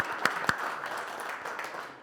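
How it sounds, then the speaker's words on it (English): Scattered audience applause at a business workshop, a few sharper claps near the start over a soft, steady wash of clapping that fades slightly. "Give her a round of applause for that."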